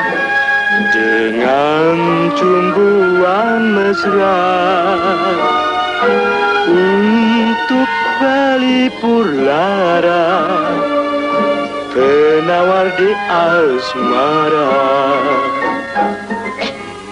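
A 1950s Malay ballad plays on a radio, a singer's wavering vocal melody carried over soft instrumental backing, steady and continuous without interruption.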